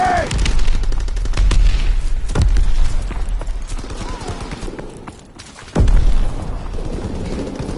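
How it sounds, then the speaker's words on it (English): Grenade blasts and gunfire in Call of Duty WWII come as a loud, dense stream of shots with several sharp, heavy bursts standing out. Voices call out beneath the din. "Tossing grenade!"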